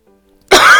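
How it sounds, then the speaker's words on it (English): A woman gives a single sudden, loud, close throat-clearing cough after a brief near-silence. "I'm sorry guys, I'm still coughing"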